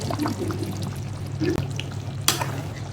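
Milk pours into chicken biryani cooking in a pan, a short close splash over a steady low cooking hum, with one sharp knock near the end and no talking.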